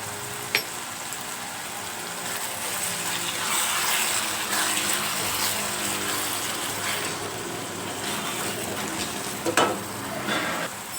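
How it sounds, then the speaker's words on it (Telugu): Tomatoes frying in oil for tomato rice, a steady close sizzle with occasional stirring scrapes and clinks over the whole stretch. "బాగా ఫ్రై అవనిచ్చి ఆయిల్ పైకి వచ్చేంత వరకు ఉడికించుకోవాలి"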